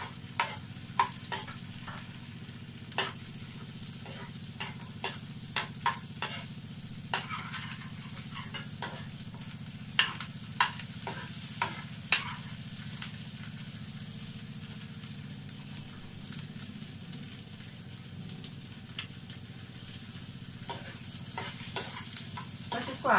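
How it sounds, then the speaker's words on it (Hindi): Ginger and green chili roasting in a pan for paneer butter masala: a steady soft sizzle throughout, broken by frequent sharp clicks and scrapes of a spoon stirring against the pan, fairly quiet and without voices. "बस इसको आधे मिनट के लिए रोस्ट करेंगे।"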